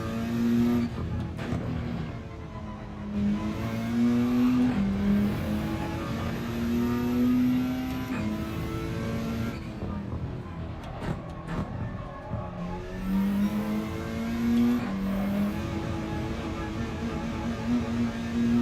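A race car engine in a racing video game drones steadily along, its pitch rising and falling through gear changes and revving. There are occasional brief clicks and rough patches, as if the car is running over grass.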